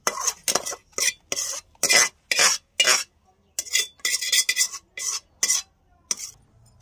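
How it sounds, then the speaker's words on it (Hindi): Fried broad beans scraped and tipped from a kadhai onto a plate, a run of sharp metallic scrapes and clinks from a spoon against the pan, loud and close, in quick bursts with short gaps and no talk. "सेम की फ्राई हो चुकी है और हम इनको प्लेट में निकाल लेते हैं"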